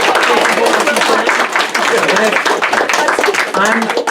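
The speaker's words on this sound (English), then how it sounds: "let's give another round of applause for Donna" A lunch and learn audience applauds for Donna, loud, dense clapping with voices mixed in throughout the few seconds.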